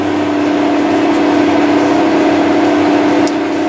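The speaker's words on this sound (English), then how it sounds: "So now the tractor is driving itself." Inside the cab of a Challenger MT765B tractor running on auto-steer guidance across a field, a steady, loud engine drone with a constant mid-pitched hum and no talk.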